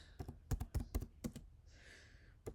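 Typing on a computer keyboard, with a quick burst of close, crisp keystrokes, a short pause, then a single final key tap.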